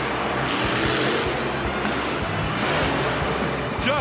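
Bulldozer, a monster truck at a 2004 St Louis freestyle event, roars and crushes a camper, a loud continuous engine drone with rhythmic low thumps filling the arena.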